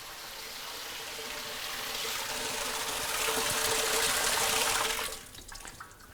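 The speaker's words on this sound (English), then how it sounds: "We won't decant all the material, we'll decant a chunk and then we'll bring the drum back." Material pours out of a drum tilted by a telescopic stainless-steel pneumatic stacker with power clamp and rotate, a steady rushing hiss that builds for about five seconds and then cuts off to a quieter trickle.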